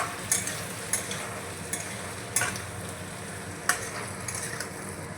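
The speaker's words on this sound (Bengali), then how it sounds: "একটু নাড়াচাড়া করে মিশিয়ে নিচ্ছি।" A spoon stirs a potato and capsicum curry in a pan, sounding as about six sharp scraping knocks at uneven intervals over a soft, continuous sizzle.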